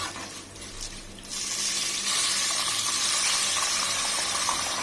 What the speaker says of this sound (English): add 2 glasses of water